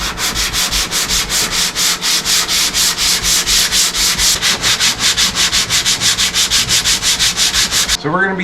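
Hand sanding of glazing putty on a rusted car body panel with 60 grit paper, a loud, even rhythm of rasping back-and-forth strokes, about four per second, stopping just before the end.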